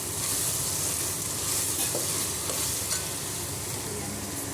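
Veg pulao is stirred in a pot over steady sizzling, a constant frying hiss with faint scraping, no voices.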